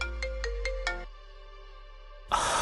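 A phone ringtone plays alone up close, a quick run of four bright electronic beeps followed by a sustained tone, then a burst of louder noise at the end.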